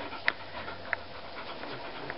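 A dog panting softly with quick, faint breaths, a few small sharp clicks or scratches standing out against quiet room noise.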